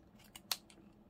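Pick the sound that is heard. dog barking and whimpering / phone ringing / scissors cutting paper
scissors cutting paper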